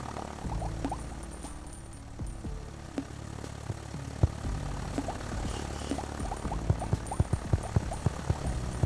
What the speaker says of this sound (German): Schön Helikopter.